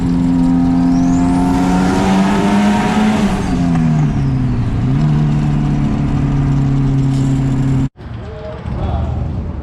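A tuned red hatchback accelerating hard on a boost tuning pull, its engine roaring loud and close with rising, shifting pitch before cutting off abruptly, then settling into a lower rumble.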